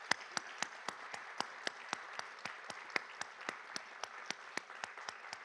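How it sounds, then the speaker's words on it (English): Applause for candidates at an evening meet-the-candidates event, heard as a steady, evenly spaced run of sharp claps, close and crisp, more like a few hands or a single clapper than a large crowd, continuing without talk. "I'd like to offer them a round of applause from all of us for being here."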